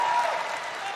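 A crowd applauds at the E3 2019 press conference, a brief dense patter of clapping that fades slightly over about a second.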